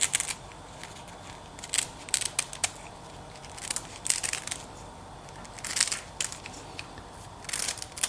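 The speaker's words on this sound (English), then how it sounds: "just use some kitchen scissors and just cut as thinly as possible" Kitchen scissors snipping thin strips for a Japanese-style mentaiko cream pasta, as crisp bursts of cutting repeated in small clusters over a quiet background, with no talking.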